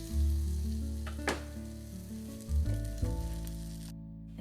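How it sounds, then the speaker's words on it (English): Butter sizzling in a hot skillet, a steady frying hiss with a few brief clatters and stirring sounds, close up, with no voices. "First thing you're going to do is add some butter to your skillet."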